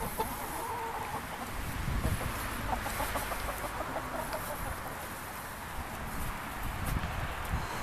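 Backyard chickens clucking steadily near a hay box, a busy continuous cluster of fowl calls with some rustling and movement throughout.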